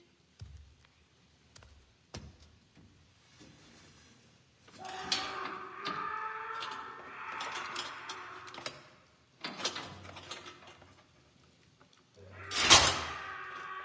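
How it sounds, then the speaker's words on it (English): In Assassin's Creed 3 Remastered, a door is unlocked with a run of metallic clicks, scrapes and rattling that come and go in bursts, ending in a louder clunk, all fairly close and with no talking over it. "just unlocking the door alone is making a lot of noise"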